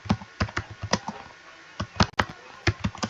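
Quick irregular clatter of keys on a computer keyboard as code is typed, a handful of bursts of keystrokes with short pauses between them, close and fairly clear with no talking.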